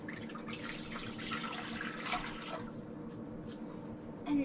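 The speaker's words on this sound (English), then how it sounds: "So we have to pour in 500 milliliters of water in here." Water, 500 millilitres, is poured into a pot for instant tonkotsu ramen, a steady close splashing stream that eases off partway through, followed by a small clink.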